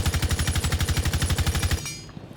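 Zofia's light machine gun in Rainbow Six Siege fires one rapid, even burst of about twenty shots, loud and close, then stops abruptly and leaves a short fading tail.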